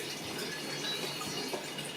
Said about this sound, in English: I'll just let that drip through